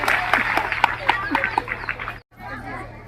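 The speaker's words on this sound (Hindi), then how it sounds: "जोरदार तालियों से इनका स्वागत करिए" An audience at a girls' college celebration claps to welcome the chief guest, a zonal officer of the municipal corporation. Scattered, fairly close claps mix with lively chatter, then cut off briefly before the noise resumes.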